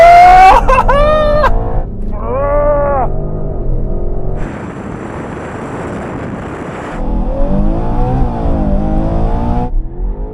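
A BMW SUV accelerating hard in a drag race, its loud engine roar climbing in pitch with rising sweeps through the gear changes, close and dominant.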